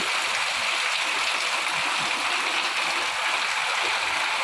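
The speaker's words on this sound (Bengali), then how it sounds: "বাইরে হচ্ছে মুসুল ধারে বৃষ্টি" Heavy rain pours outside in a steady, dense, broadband hiss that stays constant throughout, without any talking.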